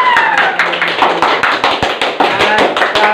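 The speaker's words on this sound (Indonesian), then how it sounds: "kita berikan tepuk tangan untuk kelompok Lukas" Classroom group applauding a student team, brisk close hand clapping with sharp uneven taps throughout, fairly loud and steady.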